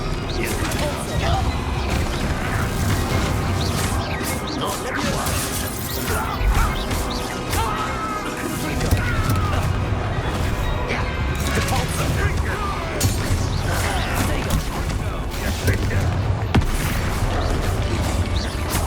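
Confringo explosive spell blasts in the Hogwarts Legacy video game, a dense run of loud crashing impacts and booms over a busy battle backdrop of music and effects, with shouted spell voices mixed in.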